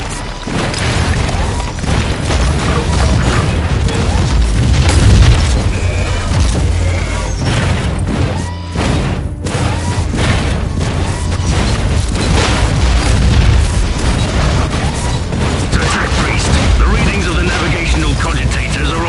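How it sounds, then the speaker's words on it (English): Weapon fire and explosions in the Warhammer 40k Inquisitor Martyr game ruin dramatic, dense and loud, with booming blasts, cracks and rumbling over a continuous roar, mixed with spoken voice. "Let the weapons of the Crimson Wanderer consume these ruins with furious"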